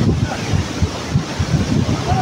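Water from a waterfall in Nepal rushes in a steady broadband roar, with wind buffeting the microphone in uneven gusts.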